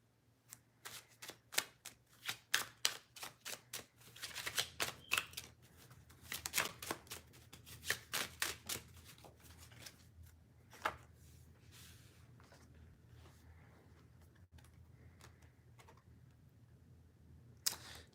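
Playing cards being shuffled by hand in a quiet room, a quick run of crisp riffling snaps and taps in bursts, then softer shuffling rustles trailing off, close and clear with no talking.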